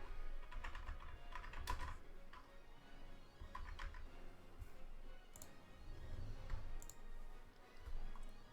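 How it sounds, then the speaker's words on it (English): Rapid typing on a computer keyboard with keys that stick, close and fairly quiet, irregular bursts of clicks and taps with short pauses between them. "And my keyboard is getting stuck."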